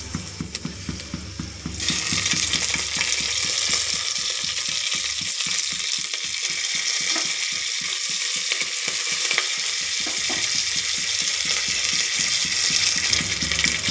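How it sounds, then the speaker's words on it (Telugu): Onion pieces and curry leaves frying in hot oil for a pigeon pea pod curry, a steady loud sizzle throughout with a rhythmic scraping of a spatula stirring the pan, no talking. "ఉల్లిపాయ ముక్కలు వేగాయండి. వీటిలోకి మనం కరివేపాకు వేసుకుందాం."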